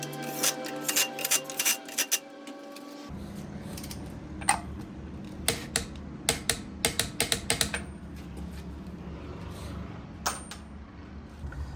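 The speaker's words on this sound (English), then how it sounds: "Still gotta torque this axle nut and then the lugs once we get the wheel on" Ratcheting wrench tightening the axle nut and wheel lugs on a Honda CRX during a wheel bearing job: bursts of quick metallic clicks in short irregular runs, close and moderately loud, with quiet gaps between.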